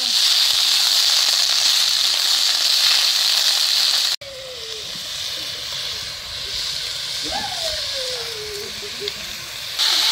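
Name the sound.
frying cabbage in oil in a pan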